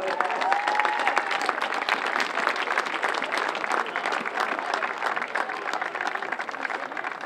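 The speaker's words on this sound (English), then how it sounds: "please give Bill a round of applause" Sustained applause from a large crowd at a high school baseball game, steady dense clapping throughout with a few brief cheers at the start.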